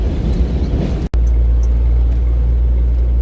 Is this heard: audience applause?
no